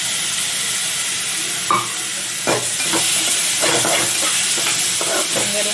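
Ginger garlic paste fries loudly in a pan with a strong, steady sizzling hiss, and a spatula scrapes and taps through it several times as it is stirred.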